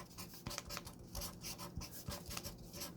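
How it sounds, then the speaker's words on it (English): Pen scratching across paper as a name is written over another name, soft close strokes and scrapes in a steady uneven rhythm with no talking. "I'm going to write my name on top of John Doe's name 3 times."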